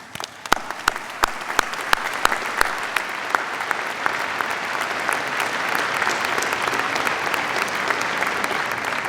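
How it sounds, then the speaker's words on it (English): A few loud claps start things off, then build into sustained applause from a large audience at a Stanford Graduate School of Business diploma ceremony, steady and full for several seconds. "Please join me in a round of applause for this committed group of student leaders."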